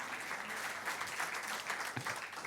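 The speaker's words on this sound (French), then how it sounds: "On peut vous applaudir, merci beaucoup d'être là." A live audience at a young-artist music showcase applauds steadily for a couple of seconds, a dense wash of clapping heard from within the room, fairly faint, with no voices.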